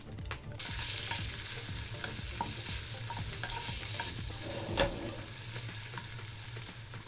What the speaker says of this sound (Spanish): Ahora en la misma sartén vamos a agregar unas gambas.